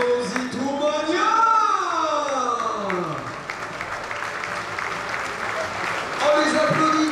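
Rugby supporters at an Aviron Bayonnais squad presentation clap and cheer as a broad crowd wash beneath a reverberant announcer's voice over the PA.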